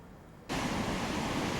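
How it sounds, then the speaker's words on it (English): Ocean surf on the Oregon coast in November cuts in abruptly as a loud, steady broadband roar of crashing waves after a brief quiet moment, with no voices. "this is just one of the many spots where you can come and just see waves crashing and smashing"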